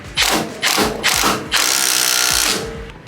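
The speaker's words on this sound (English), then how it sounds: "Then now I'm gonna tighten this bolt" A bolt being tightened during a Fortune Auto 510 Series coilover strut install: three short, whirring power-tool bursts followed by one longer run, loud and close.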